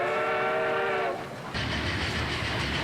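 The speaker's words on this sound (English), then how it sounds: "You probably can't slow down the train, right?" A train runs along in a One Piece anime scene, a steady rumbling rail roar with a horn-like tonal blast at the start that cuts off before the running noise swells again, loud and continuous with no talk.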